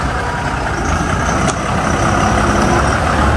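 Loaded goods truck engine running steadily while the vehicle is moved aside near a gate, a loud close rumble with a constant low drone and one sharp click partway through, stopping abruptly at the end.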